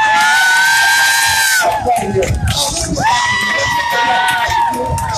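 A children's audience at a magic show cheers and shouts loudly, with high excited voices and whoops rising and falling, while an adult speaks briefly over the noise.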